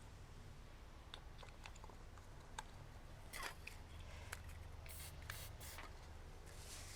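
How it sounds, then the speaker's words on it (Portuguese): Spray paint can hissing over masking tape marking a triangle in a street-art painting session, short sharp bursts against steady low background noise. "pegar o spray,"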